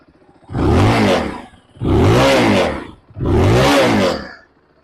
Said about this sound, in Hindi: अब इसका एग्जॉस्ट साउंड सुनो तुम लोग।